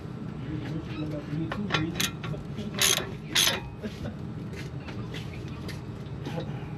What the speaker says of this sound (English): get these bolts, these two 18mm bolts, taken off for you guys.